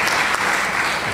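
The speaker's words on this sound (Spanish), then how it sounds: "Un aplauso." A university audience claps loudly and densely in a short burst of applause welcoming a guest speaker, close and continuous for about a second.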